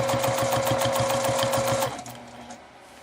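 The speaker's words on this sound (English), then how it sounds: "I'm going to start stitching down. Take a U-turn and stitch back up." A sewing machine runs fast and steadily while stitching free-motion quilting lines, a loud, even mechanical whir with rapid needle pulses that cuts off after about two seconds, leaving a quieter hum.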